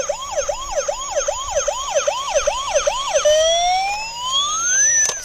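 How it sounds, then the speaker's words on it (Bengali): A musical toy ambulance plays a rapid wailing electronic siren that repeats in regular cycles. After about three seconds it turns into a rising tone and tune-like chimes, loud and close, with no talking. "এটা কিন্তু একটি মিউজিক টয় অ্যাম্বুলেন্স"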